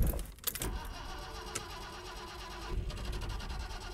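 A Mercedes-Benz 300 SL Roadster engine cranks and struggles to start in cold weather, giving a close, rough mechanical churning with irregular bursts that settles into a steady running grumble.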